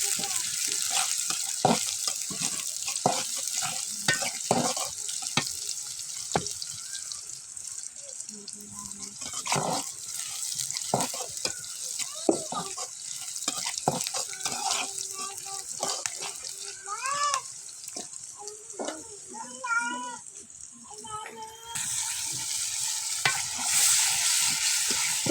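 Chopped onion and green chili sizzle in hot oil in a pan, left after frying fish, while a spatula scrapes and clatters in irregular strokes; the steady hiss runs throughout, close and fairly loud.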